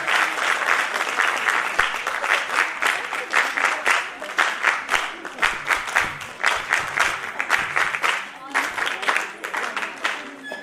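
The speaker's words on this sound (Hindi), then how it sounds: "अंजना ठाकुर जी आ रही हैं जोरदार तालियों के बीच" Loud, sustained audience applause fills the hall at an International Women's Day felicitation event honouring mothers. The clapping is dense and continuous throughout, with no one speaking over it.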